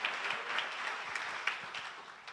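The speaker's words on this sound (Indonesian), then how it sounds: "Beri tepuk tangan dulu buat Tuhan Yesus." Scattered clapping from a church congregation at a worship service in Batam, fairly faint and brief, with a few sharper individual claps standing out.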